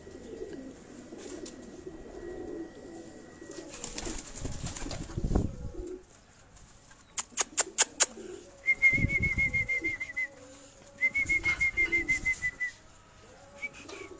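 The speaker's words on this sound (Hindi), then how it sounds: "उनके हाथ में ये जो टैडी कबूतर है इसका आप शौक कर रहे थे" A teddy pigeon held in a handler's hands gives soft coos amid brief wing flaps and bursts of handling noise, while sharp whistle-like tones and clicks sound nearby in quiet surroundings.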